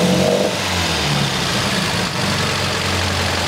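An MGB car engine with electronic ignition trouble revs up, a steady rough mid-pitched drone building in speed, heard up close with no talking.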